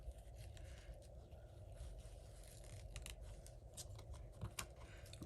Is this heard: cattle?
no